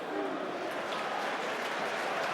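Leicester City supporters at a home football match fill the stadium with a broad, distant-sounding wash of crowd noise, steady and even throughout.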